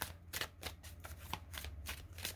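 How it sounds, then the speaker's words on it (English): A deck of cards being shuffled in several quick riffles, each a bright fluttering burst, close and fairly quiet over a low steady hum. "Two more shuffles."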